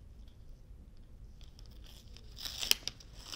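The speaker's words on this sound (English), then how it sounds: "So I'm going to peel up the corner" Siser glitter heat transfer vinyl being peeled up at a corner and weeded, giving a quiet crinkly tearing sound that builds into a sharper peel near the end, heard close.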